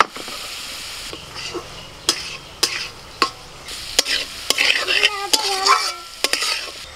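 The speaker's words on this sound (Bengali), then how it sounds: "আনাজগুলো সব ভাজা হয়ে গেছে, এবার ভাতগুলো দিয়ে দিচ্ছি।" Chopped carrots and slit green chillies frying in a pan, with a steady oily sizzle punctuated by repeated sharp scrapes and knocks of a spatula stirring, growing busier toward the end.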